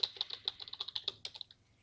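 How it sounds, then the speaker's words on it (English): Rapid typing on a computer keyboard while entering text into an Excel spreadsheet, a close run of crisp, fairly even key clicks that slows and trails off near the end. "so typing that in"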